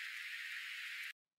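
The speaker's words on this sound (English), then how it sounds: "So then after that, I have this vinyl noise" Vinyl crackle and surface noise with all the low end cut, a steady hiss-like texture for an electronic track, heard alone at an even level for about a second before stopping abruptly.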